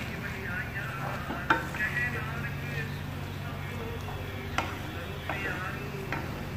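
Green onion and carrot mixture stirred in a pan, with a steady low sizzle and a few sharp scrapes of a utensil against the pan under a woman's speech.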